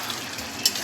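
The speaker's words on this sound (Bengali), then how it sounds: "এবার এটাকে ভালো করে মিশিয়ে দেব।" A spoon stirs vegetarian papaya and potato curry (dalna) in a pan, with a soft sizzle under one short scrape.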